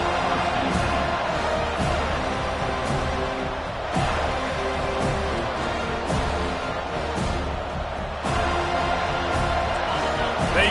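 A college football stadium crowd at an NCAA game roars and cheers in a steady, loud, dense wash of noise that fills the whole stretch without letup.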